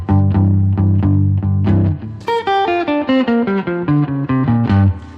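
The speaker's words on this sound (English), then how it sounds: "Now, interwoven into that is your basic triplet sound" Guitar plays a basic blues triplet exercise: low chugging notes repeat in even groups of three, then a run of single notes steps up and down in the same triplet feel, close and clear with no talking.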